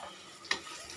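A spoon stirs stuffed brinjal curry in a pan over a soft, steady sizzle, with a single sharp scrape or clink standing out in the middle of the brief moment.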